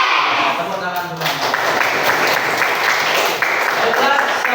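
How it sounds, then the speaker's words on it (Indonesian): A classroom of students clapping their hands together, a loud, dense burst of applause close by that continues evenly for several seconds, with a few voices mixed in. "tepuk tangan semua."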